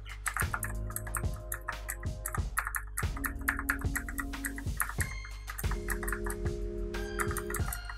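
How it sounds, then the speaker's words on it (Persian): Computer keyboard keys are typed in quick irregular bursts while a browser game is played, close and crisp over the game's tonal music and effects. "اینو با دکمه های کیبورد هم میشه بازی کرد."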